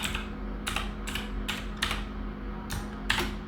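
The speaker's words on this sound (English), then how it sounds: "Okay, so now let's type" Keys clack on a computer keyboard during Python coding, with close, crisp keystrokes arriving in short bursts separated by brief pauses over a quiet room hum.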